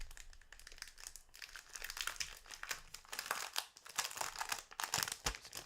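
Crisp plastic packaging crinkles and rustles continuously while an embossing folder is unboxed, close and fairly quiet, with bursts of crackling and tearing and no voices.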